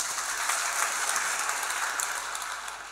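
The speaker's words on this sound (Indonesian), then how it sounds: "Beri tepuk tangan, saudara." An audience at a church seminar breaks into sustained, dense applause, a steady broad wash of clapping filling the room and cut off abruptly at the end.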